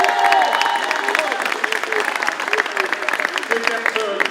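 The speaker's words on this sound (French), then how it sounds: "vous pouvez les acclamer." An audience at the installation of the new mayor of Colombes claps loudly and continuously, with scattered voices calling out over the dense applause.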